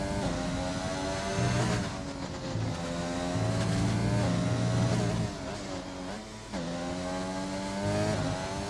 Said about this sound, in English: Oh, that's a lovely downshift there from Sitsy.